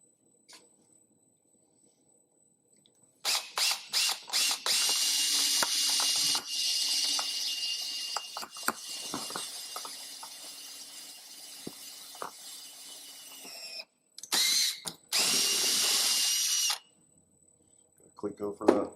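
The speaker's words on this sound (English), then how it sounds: "And clamp it, and then transfer drill it to number 11s." A power drill transfer-drills clamped aircraft wing gas tank parts to number 11 size in a workshop, with several bursts of loud, high whirring separated by pauses and people talking around them.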